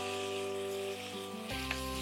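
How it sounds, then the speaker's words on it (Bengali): Shrimp and vegetables sizzle lightly in a hot pan with a little turmeric, a steady frying hiss that grows brighter and louder halfway through as the pan is stirred. "হালকা একটু ভেজে নেব।"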